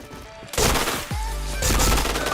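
Gunfire in an online shooter, a burst of loud overlapping shots followed by sustained rapid fire, close and dense with a low rumble underneath.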